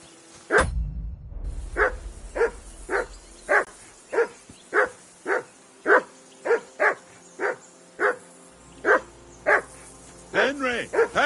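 A dog barks at Henry in Kingdom Come Deliverance II, a steady run of about sixteen sharp, evenly spaced barks at close range, opening with a brief thud and ending in a few quicker yelps, with no talk.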